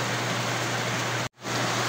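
Steady rain falls on a sun-shower afternoon, a dense, even hiss that fills the scene and briefly cuts out before resuming just as strongly.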